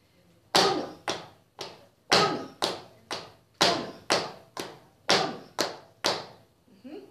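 Sharp flamenco zapateado footwork stomps on a hard floor with the whole sole, in repeating groups of three, each group opening with a stronger strike followed by two lighter taps.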